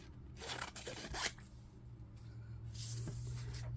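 Scissors roughly cut down a cardboard box in a few quick crunching snips and scrapes, close and fairly quiet, with a low steady hum underneath and no talking.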